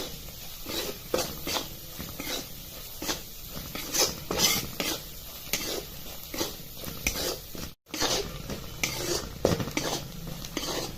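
Ground spices, turmeric, chilli powder and garam masala being stirred and sautéed in a pan for a green pea curry, with repeated scraping strokes of a spoon against the pot over a soft sizzle, close and steady.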